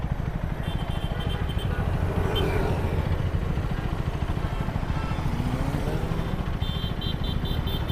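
A motorcycle engine idles and rumbles steadily at close range while being ridden, with a rising rev in the middle and a slight easing as it brakes.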